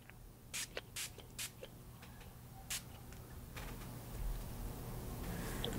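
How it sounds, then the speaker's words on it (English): Setting spray spritzed onto a face, heard as several short, sharp hissing bursts in quick succession near the start and one more a little later, close and crisp against a quiet room. "Do you want to just give myself a little spritz?"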